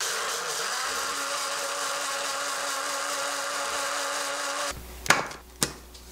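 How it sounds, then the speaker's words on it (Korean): A blender whirs loudly and steadily for several seconds grinding rice porridge for baby food, then cuts off, followed by a couple of clunks and knocks. "그럼 이거는 믹서기 넣고 또 한 번 더 갈으시면 돼요"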